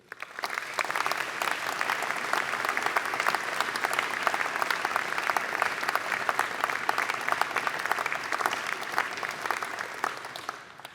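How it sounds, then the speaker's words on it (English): A sizable audience at a school assembly claps steadily throughout, a dense sustained round of applause that starts quickly and fades only at the very end. "Can we give Max a round of applause, please, too?"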